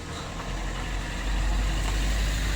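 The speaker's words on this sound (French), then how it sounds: "je vais laisser passer la voiture" A low engine rumble builds as a vehicle approaches and rolls past nearby, the sound swelling toward the end.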